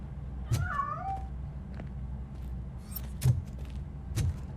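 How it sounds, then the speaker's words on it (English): A cat in the video game RoboCop: Rogue City gives a short meow, followed by scattered soft knocks and clicks in a quiet room. "That cat must be hiding inside."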